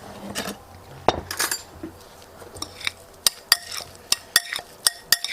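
Bruschetta topping being stirred with olive oil in a bowl, giving a run of sharp utensil clinks and scrapes that grow into a steady, evenly spaced tapping, close and fairly quiet.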